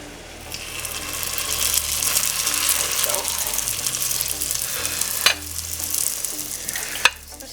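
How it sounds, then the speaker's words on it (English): Banana lumpia frying in hot oil, a steady close sizzle and crackle that goes on throughout, broken by a couple of sharp clinks from handling the pan. "And now I'm gonna start frying these."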